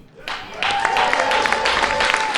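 Audience applause at a document-signing event, starting thinly and swelling after half a second into a steady, dense wash of clapping that carries on to the end.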